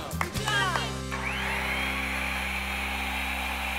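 Power tools whine steadily in a carpentry shop, a sustained high-pitched motor hum with a few brief metallic clicks at the start.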